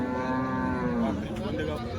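A Jersey or HF cow at a cattle market in Chalisgaon gives one long, loud, close moo that holds steady for about two seconds, with faint crowd noise behind.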